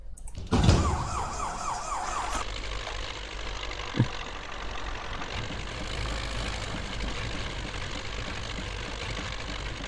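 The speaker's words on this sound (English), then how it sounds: "this is a four-wheel drive tractor despite its front axle" Four-wheel drive tractor engine in Spintires Mudrunner, on the 19RUS 1953 map in the Tatra Phoenix, droning steadily and loudly for the whole stretch, with a brief warbling tone near the start and a single knock partway through.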